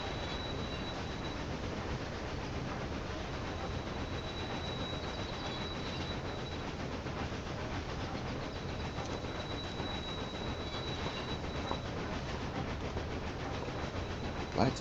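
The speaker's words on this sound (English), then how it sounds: "Quite fine even, because the train barely slows." Train from Railway Empire 2 rolling steadily along the track, a continuous broadband rumble with faint high wheel squeal and no talking, holding at an even level throughout.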